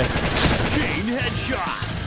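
Continuous gunfire in PUBG, a loud, dense barrage of overlapping shots lasting about two seconds, with someone talking over the shooting.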